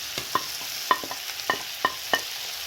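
Goat tripe frying in a pan as tomatoes are added and stirred, with soft sizzling under a series of light scraping and clinking spoon strokes.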